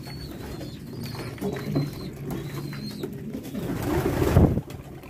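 Pigeons coo faintly as they come down to drink water, several soft calls over low background noise, with a louder rustle or splash near the end and no voices.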